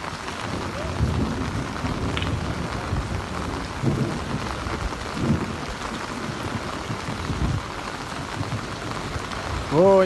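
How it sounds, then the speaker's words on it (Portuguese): Heavy rain pouring steadily in Quixadá, Brazil, a dense close hiss of drops on surfaces with low rumbling swells throughout and a brief tonal sound right at the end. "É muita chuva no Quixadá."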